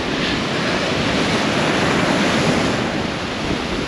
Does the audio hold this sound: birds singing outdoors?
no